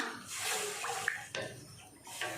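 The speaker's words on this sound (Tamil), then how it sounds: "தண்ணி சேர்த்துட்டு நல்லா கலந்து விட்டுடலாம்." Water is poured into a roadside-style salna curry and stirred in, a quiet, soft splashing and swirling with a few small clinks and no talk.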